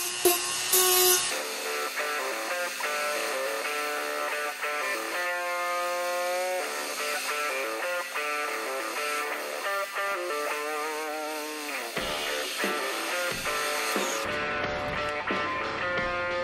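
Power tool such as a Dremel or belt sander grinding down sharp corners of rocks for a bearded dragon enclosure, a loud whining buzz whose pitch shifts as pressure changes, running continuously with brief pauses near the end.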